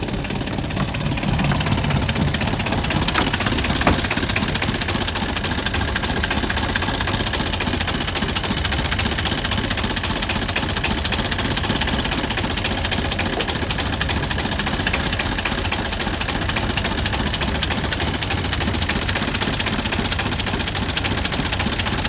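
A small engine idling with a faulty fuel line starving it of fuel, running in a steady, rough, rapid chug that stays loud and close for over twenty seconds.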